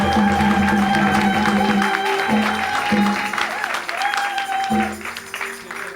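Applause and cheering from a congregation at a prophetic church service, a continuous wash of clapping with sustained musical tones and possible voices running underneath.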